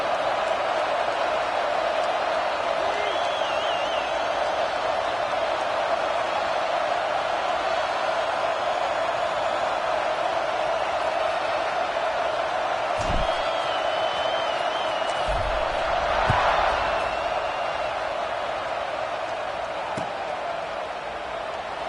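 Steady stadium crowd murmur from a college football game in NCAA 26, Michigan against USC, a continuous roar running throughout with a brief thump or two and slight swells near the end.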